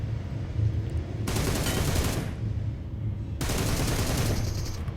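Gunfire in a battle-royale shooter game, two sustained bursts of rapid automatic shots over a steady low game rumble, loud and close with a short pause between them and no talk.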